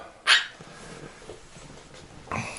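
A dog at home barks twice, a sharp close bark followed about two seconds later by a second, shorter one, with quiet room noise between.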